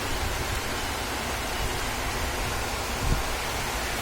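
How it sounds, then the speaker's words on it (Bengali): Heavy rain pours steadily outside in Chittagong, a dense, even hiss with no talk. "বাইরে প্রচণ্ড বৃষ্টি হচ্ছে, প্রচণ্ড বৃষ্টি।"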